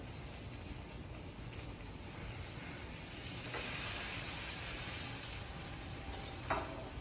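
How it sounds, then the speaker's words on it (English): Steak searing in butter in a hot pan, a steady close sizzle and crackle that swells slightly midway, with a small clink near the end and no talk over it. "Let it get a good nice sear on one side, bring it back down, flip that steak, and then get the other side, that butter"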